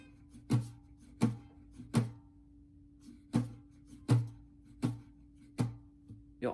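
Muted acoustic guitar strums, about nine dull, percussive chops in an uneven rhythm, close and fairly quiet, with silence between hits.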